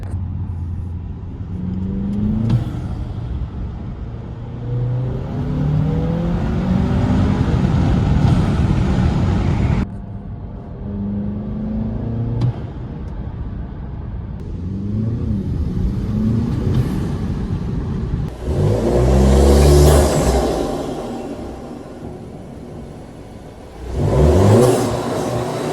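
A car engine fitted with a newly installed intake revs repeatedly, close by. Each rev climbs and falls back over a steady idle rumble, and the last few bursts are louder. No one speaks.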